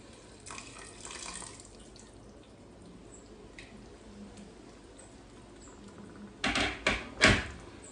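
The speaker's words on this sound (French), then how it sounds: "Là, je vais rajouter l'eau bouillante." Boiling water is poured into a cooking pot for a spinach dish with smoked fish and chicken, a faint trickle first, then a few louder splashing bursts near the end in a quiet kitchen.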